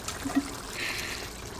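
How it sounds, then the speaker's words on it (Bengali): Hot water poured into a cooking pot, a soft steady trickle and pour heard faintly and close, with no voices. "আর এইখানে আমি পানি ঢেলে দিচ্ছি গরম পানি"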